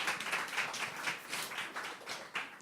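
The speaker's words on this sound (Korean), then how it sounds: "격려의 박수를 부탁드리겠습니다." Applause from a church congregation at a Sunday service graduation ceremony, a steady wash of many hands clapping at moderate volume throughout, with no talk.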